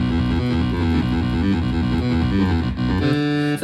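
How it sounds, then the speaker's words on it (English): A raw, buzzy saw-wave synth plays the dry Snarling Pig voice, with a little distortion and saturation, in dense sustained chords that shift in a steady rhythm and change near the end, loud and with no talking. "So basically kind of a saw synth"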